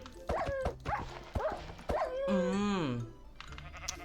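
In Minecraft, a wolf attacks a sheep: four quick, sharp yelping barks in a row, then a long, wavering sheep bleat. The sounds are close and clear, followed by a few faint clicks.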